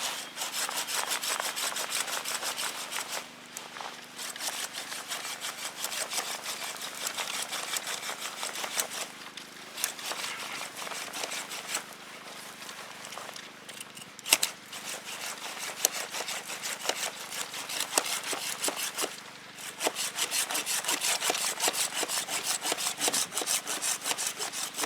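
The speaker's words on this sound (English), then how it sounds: "you can use your saw to cut one this size" A hand saw cuts through a large tree branch with steady, rhythmic rasping back-and-forth strokes. The strokes are close and fairly loud, with a few brief pauses and some uneven strokes along the way.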